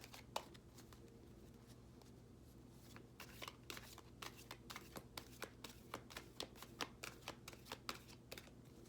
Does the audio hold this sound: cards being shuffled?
yes